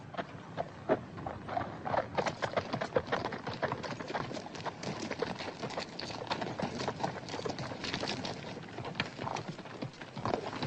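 Horse hooves clip-clop steadily on the ground in a Western setting, a moderate, fairly even rhythm of hoofbeats heard at mid distance with no talking over them.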